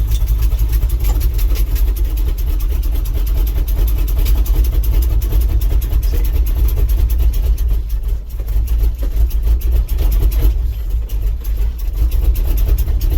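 A 1967 International Harvester 4x4 truck engine idles after a cold start in the snow, a loud, continuous low rumble close by with a slight dip and recovery in the middle.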